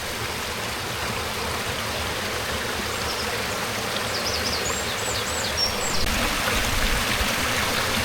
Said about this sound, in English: Waterfalls just coming down here.